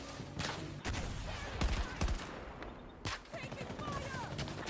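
Gunfire in a shooter video game: scattered bursts and sharp single shots crack through a busy mix of battle noise, with voices talking over the action.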